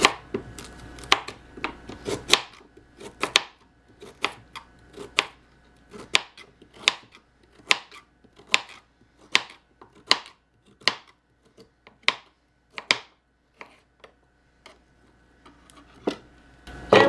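A knife chops smoothie ingredients, including ginger root, by hand on a cutting board: roughly twenty crisp, evenly spaced thuds close up in a quiet kitchen, with a few quicker clusters near the start.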